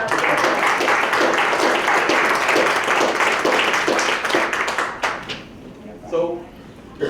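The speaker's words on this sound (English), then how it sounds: "Can we get a round of applause?" An audience at a panel event on housing justice applauds in a dense, sustained round of clapping. The clapping fades after about five seconds into scattered claps and a brief voice.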